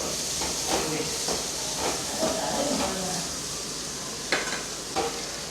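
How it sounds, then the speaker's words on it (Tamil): Onions frying in oil in a kadai for a hotel-style ladies finger masala, giving a steady close hiss and sizzle with a few louder crackles and stirring scrapes, no talk. "வெங்காயம் நல்லா ஃப்ரை ஆகிடுச்சு, கோல்டன் ப்ரௌன் கலரில் ஆகிடுச்சு."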